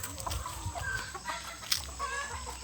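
Soft clucking from chickens in short scattered bursts, fairly faint over a low background murmur.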